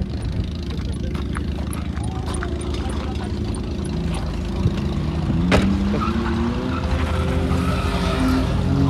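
Drift car sliding around a race circuit, its engine droning loud and steady with a rising tire squeal late on; people talk over it.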